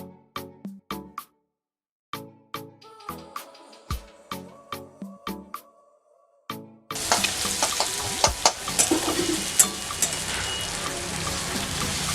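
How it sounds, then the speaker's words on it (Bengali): Onions fry in hot mustard oil for a gravy, with a series of sharp, separate knocks and taps that give way to a loud, continuous sizzle and crackle. "এবারে পেঁয়াজগুলোকে ফ্রাই করে নেব।"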